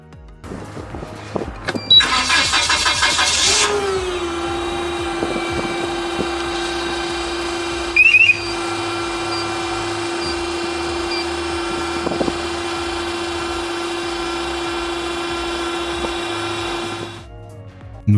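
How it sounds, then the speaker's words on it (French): A SensorZone-equipped machine starts up out in the field: a short burst of loud broadband noise gives way to a steady, droning motor hum that runs evenly for about fifteen seconds before cutting off, with no talking. "regardons une vidéo montrant un démarrage sur le terrain"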